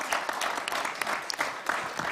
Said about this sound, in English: Please join me in applauding the panelists for their interventions.